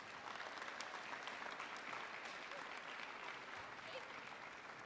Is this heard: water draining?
no